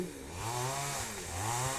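Chainsaw running steadily while cutting large tree limbs near overhead power lines, a loud continuous engine drone with rising and falling revs as the chain bites into thick wood.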